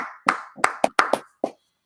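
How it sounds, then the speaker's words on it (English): Several sharp, separate hand claps in a podcast studio, about six claps in an uneven rhythm, close and crisp, with silence between them. "Clap it up"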